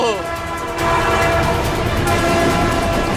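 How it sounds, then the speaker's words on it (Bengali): A train rumbles close by with a loud, sustained horn blaring over the steady clatter, the noise swelling after the first second. "ট্রেন আসছে তো"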